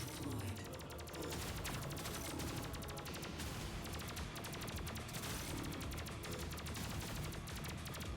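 Rapid, continuous gunfire from the Terminator 2D: No Fate video game, dense overlapping bursts of shots rattling on steadily at a loud, even level with game music underneath.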